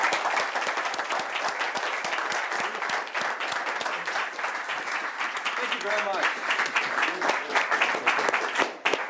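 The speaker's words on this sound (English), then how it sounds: "please give a warm applause" Lecture hall audience gives a warm, sustained round of applause as a physicist takes the stage, dense clapping throughout with someone briefly speaking over it near the end.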